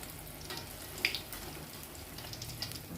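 Tofu fries dry in hot oil, giving a soft, steady sizzle with a few small crackling pops, quiet and close, with no talking.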